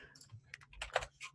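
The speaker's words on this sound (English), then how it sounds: "I didn't mean for this demo to just be me typing really fast on here" Fast typing on a computer keyboard during a live R programming demo, a quick burst of close, crisp key clicks in uneven clusters, with no voice over it.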